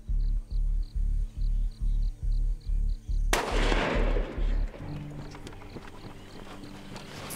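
A single loud rifle shot fired at a sitatunga antelope during a hunt, a sharp crack that rings out and decays, following a string of regular rhythmic thumps.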